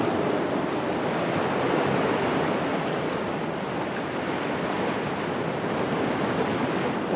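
Ocean surf off a marina after a typhoon has passed, a continuous roar of breaking waves mixed with wind noise on the microphone, steady and fairly loud with no voices.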